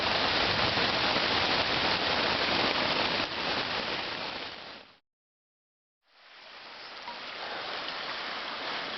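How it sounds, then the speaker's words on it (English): Heavy rain pours steadily during a night storm at a lakeside camp on Lake Superior, a loud, dense wash of drops that cuts out abruptly for about a second before resuming slightly softer. "Quite a storm out there. Yikes. It's really raining."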